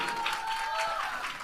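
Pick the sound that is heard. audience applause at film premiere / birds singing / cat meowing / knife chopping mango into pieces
audience applause at film premiere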